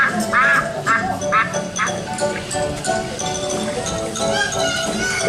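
Ducks quack in a park at Paultons Park, several bursts in a loose rhythm, close and fairly loud, with crowd murmur and footsteps around them.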